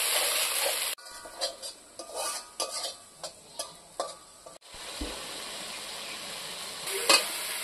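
Ground spice paste with tomato and dry chili powder is fried in a pan for a Bengali paneer curry, with a loud hiss when added, then repeated scraping stirs and a steady frying sizzle.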